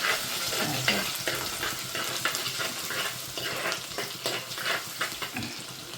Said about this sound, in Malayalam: ഇഞ്ചി ചെറുതായിട്ട് അരിഞ്ഞിടുവാണ്